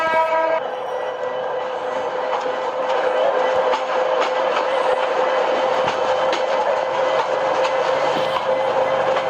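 A train rolls steadily through the Bangladesh train simulator game, its engine drone joined by a held horn tone and rhythmic wheel clatter, loud and continuous throughout.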